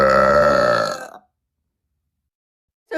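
A loud, long burp from a child sounds up close for about a second, with a rough, voiced tone that fades out into silence, then a brief bit of sound returns at the very end.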